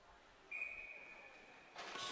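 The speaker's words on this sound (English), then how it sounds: "And the referee will get the whistle." A referee's whistle sounds during a women's ice hockey game: one long, steady shrill blast over the rink's ambient noise, ending as crowd and arena noise swell.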